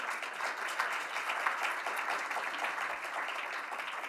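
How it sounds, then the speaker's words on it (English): Steady applause from a conference audience welcoming a panel at a global conference on Yemen, an even, continuous patter of many hands clapping at moderate distance with no talk over it. "give your panel a round of applause"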